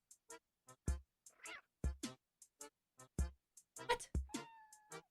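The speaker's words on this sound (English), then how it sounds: "I forgot that there was Animal Crossing music with random cat noise in it." Cat noises in Animal Crossing video game music: a string of short, quiet meows and chirps in quick irregular rhythm, each brief and separated by silence.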